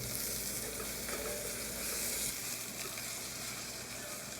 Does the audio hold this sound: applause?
no